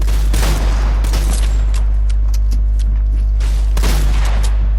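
Gunfire in a Fortnite match, loud bursts of rapid shots in two clusters with scattered single cracks between them, over a constant low game rumble.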